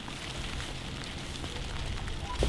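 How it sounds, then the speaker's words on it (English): Steady rain falls outdoors in a continuous broadband hiss and patter, fairly close and even in level, with a brief sharper knock near the end and no talking. "Okay, so it started raining"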